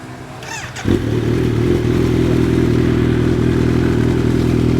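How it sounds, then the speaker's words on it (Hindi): A Kawasaki Z900 motorcycle engine starts up and settles into a steady, loud, throbbing idle close by, running evenly without revving. "तो अभी ये बाइक आइडल पे है और ऐसा साउंड कर रही है।"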